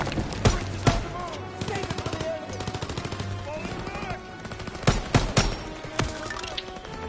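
Rapid machine-gun bursts and single gunshots crack through a Call of Duty WWII battle on PS4, with loud sharp reports at intervals over a dense backdrop of combat noise and faint voices.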